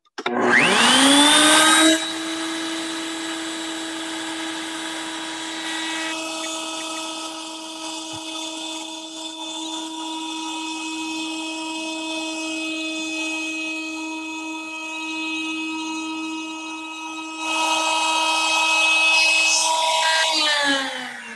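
A woodworking machine spins up with a rising whine, then cuts steadily as wood is fed through it to form a sliding dovetail for a drawer. The loud tonal hum stays constant for about twenty seconds, swells near the end, and then winds down. No one speaks.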